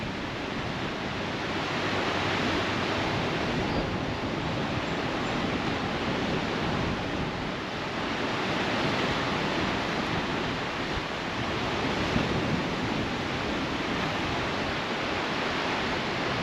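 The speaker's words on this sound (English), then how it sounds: "you really get some tough rapids" River rapids on a whitewater stretch near Thurmond, West Virginia, make a steady, even roar of rushing water that holds constant throughout, with no voices.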